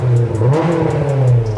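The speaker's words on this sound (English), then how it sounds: "We're gonna let you hear the exhaust for the first time." A warmed-up Honda S2000 with an aftermarket exhaust revved at close range, a loud throaty note rising and settling across one short blip of the throttle.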